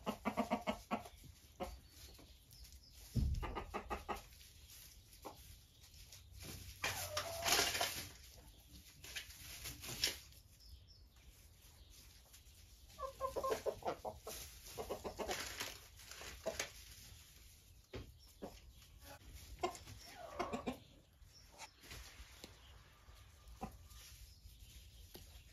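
Silkie chickens cluck in bursts around a rural country yard, with soft crinkling and handling noises close by and no talking.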